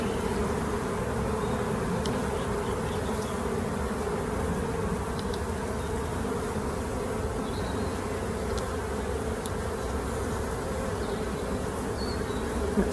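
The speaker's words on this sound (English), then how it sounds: "let's just shake these bees in now" Dense, steady buzzing of many honeybees fills the whole stretch, close and continuous, with no voices, as bees are shaken into a hive during a Bailey comb change.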